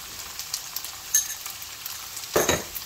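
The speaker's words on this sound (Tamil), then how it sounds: "இப்போ தக்காளி நல்லா வதங்கி வரட்டும்" Tomatoes sautéing in a pan for mussels varuval give a low steady sizzle broken by light scrapes, with a louder stirring scrape near the end; no one speaks.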